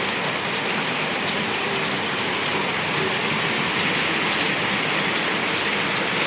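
Steady downpour drums on nearby surfaces, a continuous loud wash of rain with no pauses.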